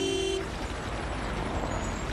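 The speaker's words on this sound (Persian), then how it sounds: "بوق چرا میزنه؟" A car horn honks briefly outside a hospital, one short toot over a constant wash of street and traffic noise.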